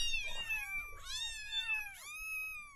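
Cats yowl and meow in three drawn-out, wavering cries, close and fairly loud, with no voices over them.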